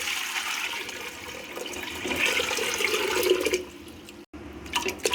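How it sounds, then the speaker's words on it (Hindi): Water gushing and splashing steadily into a pressure cooker, about a litre, for several seconds, then a brief pause followed by a few more splashes. "कुकर में मैं 1 लीटर के करीब पानी शामिल करूँगी।"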